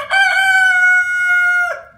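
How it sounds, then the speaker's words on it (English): A rooster crows once, loud and close, a long drawn-out cock-a-doodle-doo with a clear tonal call and no talking, near chickens. "Those are chickens."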